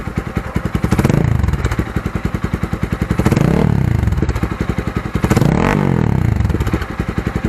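A Kawasaki Z200S motorcycle fitted with a Yoshimura muffler revs up close and loud, the engine note rising and falling in two or three pulses over a rough, rapid exhaust burble.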